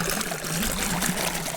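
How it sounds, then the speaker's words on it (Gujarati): Water from a buried farm irrigation pipeline trickles and splashes steadily nearby, a continuous gurgling flow with no talk. "આવી રીતના કંઈક પાણી આવે."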